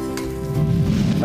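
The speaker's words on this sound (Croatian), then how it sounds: "I pržimo dok malo ne omekša." Chopped onion with a pinch of salt frying in a little heated oil in a pan over a flame, giving a steady soft sizzle that swells slightly partway through, with no talk.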